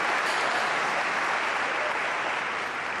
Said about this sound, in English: And can you hear the applause?